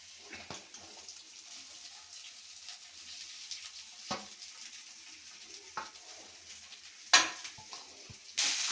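Carrots and beans tossed in a pan over a high flame for vegetable fried rice, a soft continuous sizzle punctuated by scraping stirs and a few sharper clatters of the pan.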